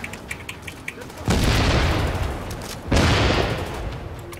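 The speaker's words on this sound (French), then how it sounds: "Grenade sur moi." Two heavy grenade blasts go off in Tom Clancy's The Division, each a loud booming burst that rumbles and decays, spaced about a second and a half apart after faint clicks and taps.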